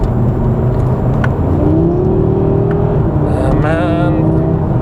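A 2022 Audi RS3 engine pulls steadily under light throttle, a continuous close-up drone with a rising tone and a brief higher whine near the end.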